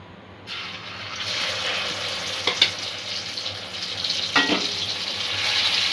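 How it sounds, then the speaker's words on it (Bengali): Chana dal frying in hot ghee over a medium flame, a steady close sizzle that holds throughout, with a couple of brief stirring scrapes partway through. "ঘিটা গরম হয়ে গেছে, এর মধ্যে ডালটা আমি দিয়ে দেব।"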